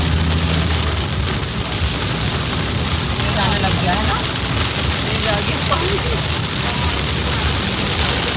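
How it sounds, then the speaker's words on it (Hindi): Heavy rain in a windstorm drums steadily on a car during a long highway drive in Rajasthan, a dense continuous wash with road rumble beneath, while people talk briefly over it. "आंधी तूफान बहुत तेज चल रहा है। बारिश हो गई है"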